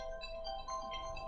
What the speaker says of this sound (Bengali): ফোন আসছে